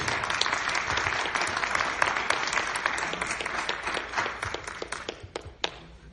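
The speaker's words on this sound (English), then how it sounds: "A round of applause, please." A crowd applauds in a dense, steady wash of clapping that gradually thins into scattered claps toward the end.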